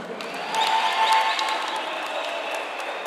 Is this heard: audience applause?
yes